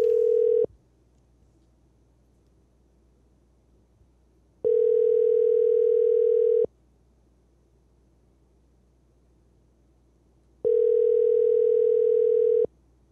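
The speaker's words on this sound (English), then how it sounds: "Getting him on the phone now." Ringback tone plays while a guest is called by telephone, three steady buzzing tones about two seconds long separated by roughly four-second silences, with no voices.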